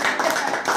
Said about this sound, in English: Ryan can't clap, but Joe and I can